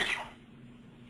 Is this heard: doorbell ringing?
no